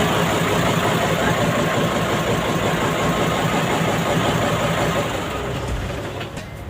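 A frequently breaking-down truck's engine idles with a steady, loud low rumble that continues throughout, easing slightly toward the end as it winds down.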